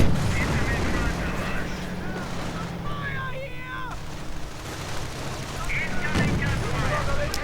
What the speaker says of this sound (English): trying to make a run from the mighty King Tiger and its high velocity 88mm gun